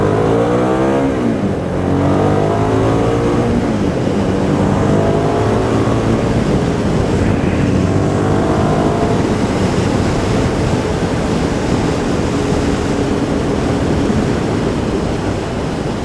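A 2008 Hyosung GT650R motorcycle engine runs loud and close, revving up at the start and then holding a steady, rough drone, with heavy wind-like noise over it throughout.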